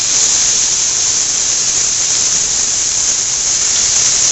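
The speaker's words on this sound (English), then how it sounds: "now let's get the steaks into the skillet" Peppercorn-crusted steaks sizzle loudly in a hot skillet, a steady, dense hiss and spatter close up that holds unbroken with no talking.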